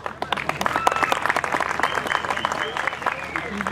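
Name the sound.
applause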